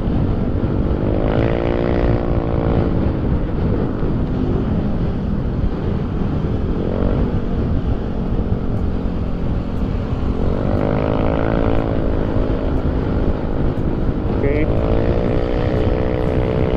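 An AHM aftermarket exhaust on a Yamaha Nmax scooter drones steadily while riding, a continuous deep engine hum with rising and falling pitch as the throttle changes, and a rider talks over it.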